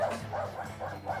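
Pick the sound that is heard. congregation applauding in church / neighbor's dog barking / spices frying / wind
neighbor's dog barking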